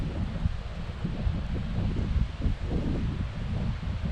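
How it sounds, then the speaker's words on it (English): Strong wind buffeting a microphone on a Lake Superior beach, a continuous low roar with gusty surges and rustling, close and loud throughout with no talking. "The one thing with all this wind, however, is I actually need tent stakes for the corners. It's so windy."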